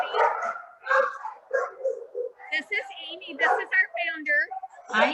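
Puppies bark and yip in quick, high bursts, close and loud, overlapping with excited voices of people talking among them.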